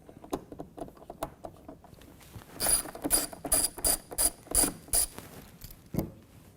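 A ratchet turns a Torx screw out of an Electrolux dryer during disassembly, a run of crisp quick clicking bursts in a steady rhythm, close and alone, with a few light taps before and after.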